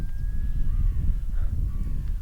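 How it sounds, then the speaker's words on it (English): A crow calls outdoors beside a cycling road with a few drawn-out caws and thin bird calls, fairly faint against heavy low wind rumble. "All I can hear is birds."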